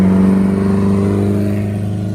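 A Porsche 550 Spider sports car in the Tour Auto race accelerates close by, its engine a loud, steady low drone with rising harmonics that fades slightly over two seconds, no talk.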